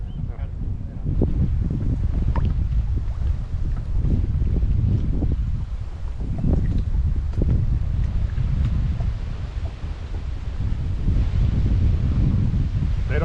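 Steady wind buffeting the microphone on a small fishing boat out on the water for crappie, a continuous low rumble with gusty swells and light rustling throughout.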